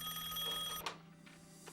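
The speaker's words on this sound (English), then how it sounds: "the phone rings again" A home telephone rings with a steady electronic bell tone that cuts off partway, followed by faint clicks and soft room sounds in a quiet house at night.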